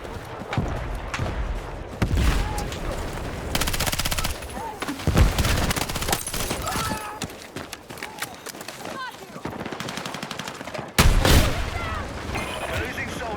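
Frag grenade blast and sustained gunfire rage through a Battlefield 6 Rush mode firefight, with dense bursts throughout and a sharp heavy explosion near the end, voices shouting over the battle.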